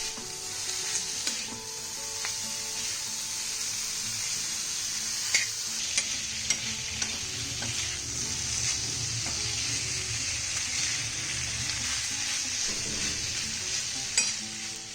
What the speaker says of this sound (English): I'm adding in cubed paneer and toss this up well.